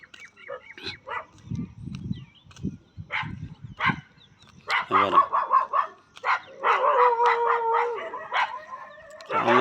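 A pack of village dogs barking, howling and yipping, several dogs at once at close to middle distance, with bursts growing louder and more frantic, mixed with people talking.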